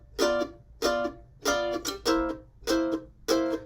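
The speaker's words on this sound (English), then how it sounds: "So if you're going to play a blues progression, it would sound like this." Mandolin strummed in steady quarter-note chords through a blues progression, six evenly spaced ringing strums played alone and close, with a brief extra stroke between two of them.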